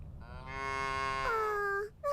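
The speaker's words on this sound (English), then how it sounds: "There's a bunch of cows on the Kitty field." Cows low in the video game Little Misfortune, one long drawn-out moo that bends in pitch near its end, followed by a short second call, loud and close.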